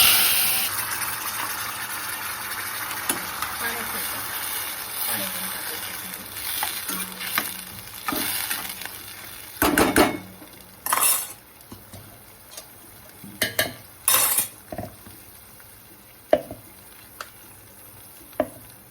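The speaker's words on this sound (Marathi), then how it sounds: "छान भाजी उकळते" Cluster bean (gavar) curry sizzles and bubbles in a pan while a spoon stirs, with scraping clicks and knocks scattered over the steady hiss of cooking.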